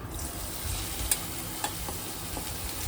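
Chopped onions hitting hot oil left from frying potatoes, a steady close sizzle with a few light knocks of a stirring spoon against the pan.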